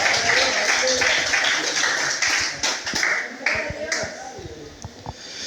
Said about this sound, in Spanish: Denle palmas al que vive